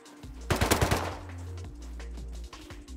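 Automatic rifle fire in the survival game Rust, a rapid burst of about five or six sharp, loud shots in quick succession, then a lingering low rumble and distant reports.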